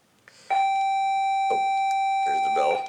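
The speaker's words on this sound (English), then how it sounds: "There's the bell." A bell rings as a single sustained, bright electronic tone lasting about two and a half seconds, fairly loud and steady, with brief voice-like murmurs faintly underneath.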